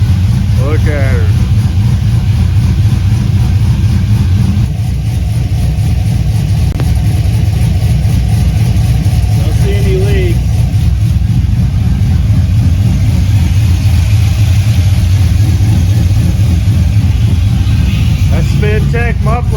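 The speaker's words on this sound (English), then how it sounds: "Spintech muffler sounds nasty." Truck engine with a Spintech muffler rumbling and revving, a deep loud continuous exhaust drone close by that holds steady throughout, with people talking over it.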